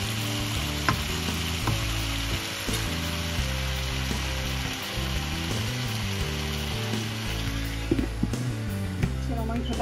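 Meat sizzles as it braises in a pan: a dense, even crackle runs throughout, with low humming music or background tones underneath and occasional light knocks.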